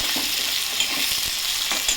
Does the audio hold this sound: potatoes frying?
yes